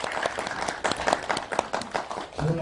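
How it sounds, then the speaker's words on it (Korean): An audience at a constitutional reform debate applauds to welcome a speaker, a burst of fairly faint, scattered clapping lasting a couple of seconds. "큰 박수로 좀 맞이해 주시죠."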